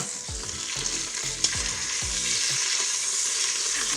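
Pork pieces browning in an Instant Pot, a steady close sizzle broken by scraping stirs and a sharp clack as the meat is flipped.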